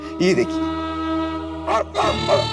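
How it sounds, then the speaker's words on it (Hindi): A doorbell in a household sitcom scene plays a recorded dog-bark sound: a steady electronic tone carries a few bark-like yelps near the start and end, while a person speaks over it. "वो डोरबेल में कुत्ते की आवाज है"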